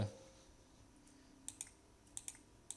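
A computer keyboard is tapped while text is entered into a document, sparse light clicks in small clusters, close and quiet.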